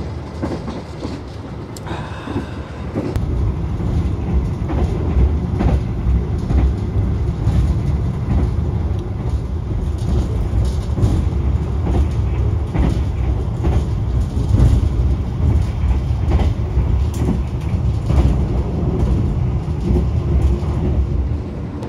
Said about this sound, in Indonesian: Kereta apa ya barusan lewat, mendadak nongol.